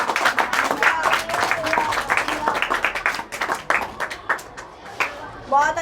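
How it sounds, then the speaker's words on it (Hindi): A small group of school students claps, scattered and uneven, with voices mixed in, then the clapping thins out. "एक बार तालियां हो जाए"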